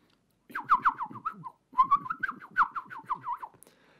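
A canary's call in a children's tale, given as two bursts of quick chirping trills that rise and fall, with a voiced quality that suggests a person imitating the bird.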